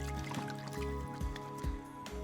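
Hands are washed with soap in hard water in a basin, giving soft splashing, sloshing and dripping close by over a steady background hum.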